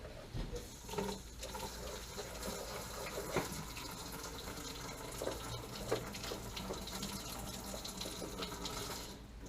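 Steady running water with a thin, hissing spray and splashing from a Rheem Performance 50-gallon water heater's drain valve, continuous throughout with a few brief clanks.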